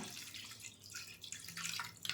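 About a cup of water trickles and splashes briefly into a cooking pot, a soft, faint pour with bubbly, gurgling texture.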